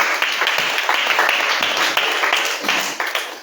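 A church congregation claps and cheers together, a dense, loud, sustained round of applause with individual hand claps standing out.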